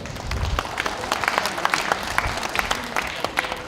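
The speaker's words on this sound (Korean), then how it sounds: "큰 박수로 맞이해 주시기 바랍니다" An audience at a community gathering applauds to welcome a young pansori performer, many hands clapping close and loud with distinct sharp claps standing out, a faint murmur of the crowd beneath.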